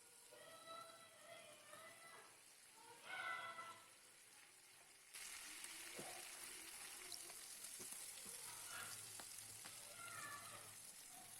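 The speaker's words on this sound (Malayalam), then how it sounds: "ഇനി ചിക്കൻ ഒന്ന് ഫ്രൈ ചെയ്തെടുക്കാം കുറച്ച് ഓയിലും കൂടെ ചേർത്തിട്ടൊന്ന് ഫ്രൈ ചെയ്തെടുക്കാം" Chicken fries in oil in a pan with a faint, soft sizzle. It gets a little louder and hissier about halfway through, with a few light clinks.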